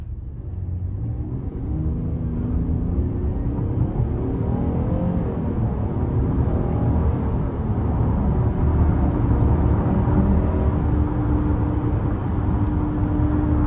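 A 2018 Buick Enclave Premium accelerates onto an interstate, heard from inside the cabin as a steady, loud low rumble of engine and road noise rising gently in pitch as it gains speed.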